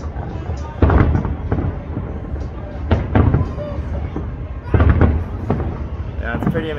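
Repeated booming New Year 2023 fireworks bursts over Dubai with crackling in between, loud and continuous like a finale, with a crowd murmuring underneath.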